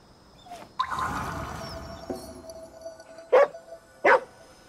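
In-game dog from Ghostwire Tokyo, set amid open-world horror, gives two short sharp yelps or barks after a longer whimpering sound, fairly close and clear over a low background.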